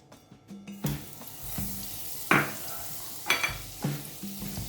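About three tablespoons of butter sizzle softly in a pot with a steady crackle, broken by a few louder clinks and scrapes of a utensil against metal.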